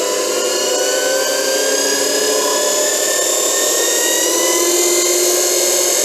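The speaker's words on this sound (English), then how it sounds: "we have power to the motor, which we can just turn up and down" The motor of a belt disc sander, or linisher, whines loudly and continuously close by. Its pitch slowly rises and shifts as the speed is turned up, and no one speaks.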